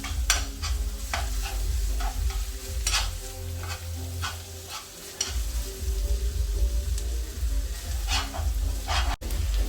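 Minced meat frying in butter in a pan for fusilli pasta, a steady close sizzle with repeated spatula scrapes and clinks as it is stirred.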